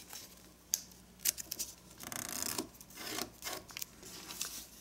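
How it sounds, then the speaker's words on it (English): Paper is folded for an origami belt, with soft rubbing and creasing swipes plus a few crisp taps, quiet and close with no talk. "let's fold this bottom edge up to the first crease"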